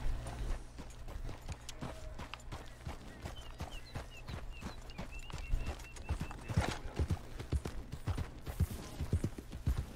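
Horse hooves clip-clop at a fast gallop in the video game Red Dead Redemption 2, a rapid rhythmic pounding that runs continuously over a low ambient bed, with a brief neigh-like whinny mixed in.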